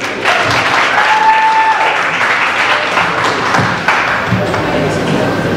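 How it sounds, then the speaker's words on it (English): Audience applause at a poetry session of the Free State Art Fusion event Topaz Sundays, with steady dense clapping and crowd noise filling the space throughout. "Can we please give Dineo a huge round of applause, please?"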